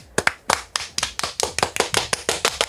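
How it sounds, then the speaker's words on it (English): Sharp hand claps ring out close and dry, about a dozen in a steady, even rhythm, with no voices alongside. "Clapping."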